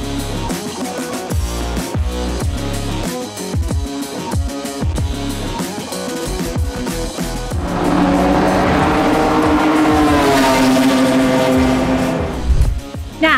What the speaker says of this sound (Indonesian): Kita bakal nonton balap mobil.